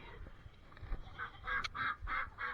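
Baby ducks in a backyard garden, faint at first and then four or five loud, honking quack calls in quick succession close by, over low outdoor rumble.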